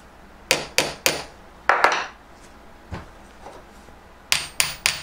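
A hammer strikes a metal block resting on a leather doily at a home jeweller's bench, giving sharp, close taps in quick groups of three, then a few single knocks and another triple burst.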